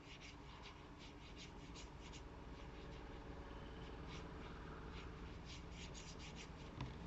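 Silky pastel crayons rubbed across paper to blend two colours into a gradient, a steady close scratchy scraping with repeated short strokes, no talk.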